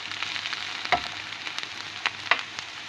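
Onion and carrot fry in a pan with a soft, steady sizzle, broken by a few sharp stirring clicks and scrapes up close, with no voices.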